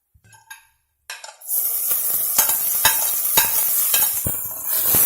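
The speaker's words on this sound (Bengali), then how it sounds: "এরপর আমি এর মধ্যে দিয়ে দিচ্ছি কুচি করে রাখা টমেটোটা।" Chopped tomato drops into a pan of onion, garlic, chilli and ginger for dhaba-style dal tadka, setting off a loud, steady sizzle with clinks and scrapes of stirring after a brief quiet start.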